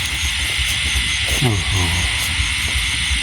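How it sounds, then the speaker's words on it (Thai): Frogs call at night in the Thai countryside after rain, a dense, loud, continuous chorus of buzzing and trilling. A voice speaks briefly in the middle, under the calls. "เสียงเขียดหองสนั่นมันไหวเลยครับผมพี่น้อง"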